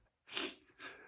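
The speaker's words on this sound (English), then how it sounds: "I have to sneeze." A person sneezes once in a crowded elevator, a close, loud burst followed by a second breathy exhalation, with no talking.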